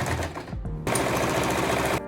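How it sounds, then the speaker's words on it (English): Close, loud sewing machine stitching a seam across a fabric water bottle holder with a half-inch allowance, a short rapid mechanical chatter after a brief hesitant start, with no voices. "we're going to fold it right sides together, and using about a 1/2 inch seam allowance, we're going to sew all the way across."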